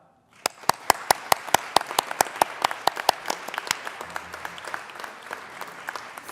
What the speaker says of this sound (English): we would like to applaud you as well.